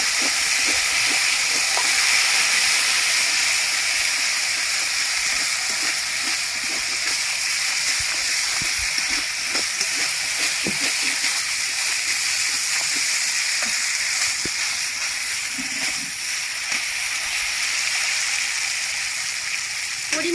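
Live tilapia with salt, turmeric and a poppy seed and mustard paste sautéing in a pan, giving a loud, continuous hiss and sizzle with faint clinks and stirring scrapes underneath.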